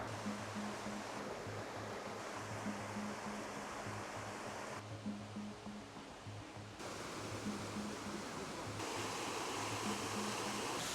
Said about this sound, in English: I hear the waterfalls.